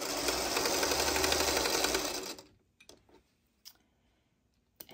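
A home sewing machine runs steadily for about two seconds, stitching quilt block fabric, then stops, followed by a few faint clicks and handling sounds.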